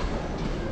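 A train rumbles steadily overhead on an elevated line in Denmark, a dense continuous low roar heard close and loud, with no talking.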